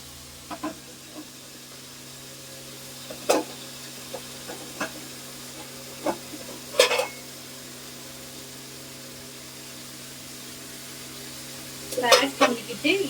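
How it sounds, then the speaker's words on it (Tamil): Spinach sautés in a pan with onion, tomato and garlic, a faint steady sizzle under a constant hum, broken by occasional clinks and scrapes of stirring. "ஆட் பண்ணிக்கிட்டு இதை ஒரு திருப்பி விட்டுக்கணும் கீரையை."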